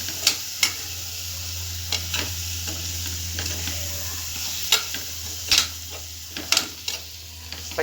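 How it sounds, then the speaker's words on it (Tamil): Ingredients for manathakkali kuzhambu sauté in a pan with a steady, quiet sizzle under repeated sharp scrapes and ticks of a spoon stirring against the metal, irregular and close, with no talking. "பச்சை வாசம் போகிற அளவுக்கு எல்லாத்தையும் வதக்கி விடணும்."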